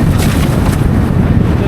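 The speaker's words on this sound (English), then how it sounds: "Very good gust now." A strong gust of wind roars across the microphone during windfoiling on open water, loud and continuous with low buffeting rumble throughout.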